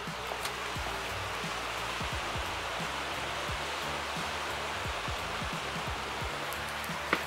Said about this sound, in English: I can hear the river flowing